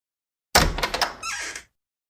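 A door creaks open in one short movement, starting with a sudden thump and rattle and then a thin, high squeak, all over in about a second and surrounded by silence.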